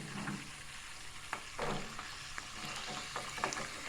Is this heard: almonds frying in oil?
yes